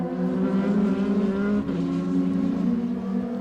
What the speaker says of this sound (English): Let's look at Mario Haberfeld, one of the white Astromega cars